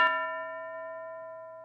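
A small bell is struck once during a classroom English game, a bright, clear ding that rings on and slowly fades, alone and close.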